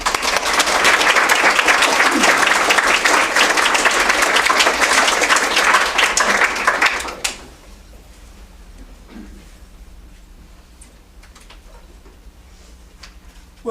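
A lecture audience gathered for a talk on perfume and seduction applauds steadily for about seven seconds to welcome the speaker, dense clapping that fills the room before cutting off into quiet room tone.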